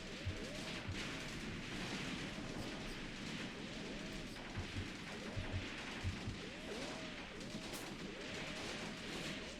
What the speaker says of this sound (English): You can actually just hear those rounds popping off